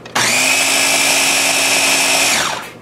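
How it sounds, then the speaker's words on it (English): A personal blender whirs at full power for about two seconds while blending a smoothie, a steady loud motor drone that starts abruptly and winds down at the end, with no talking. "And it blends."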